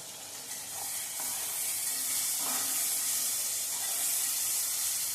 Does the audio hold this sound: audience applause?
no